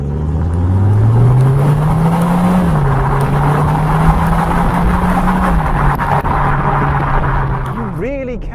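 A synthesized engine drone rises in pitch as a Skoda Kodiaq vRS SUV accelerates, steady and loud from inside the cabin, shifting down briefly before a voice speaks at the end.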